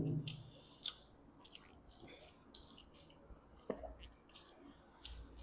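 Close, quiet wet chewing and soft smacking while eating fish curry with ridge gourd and rice, irregular mouth sounds with faint squishy bites.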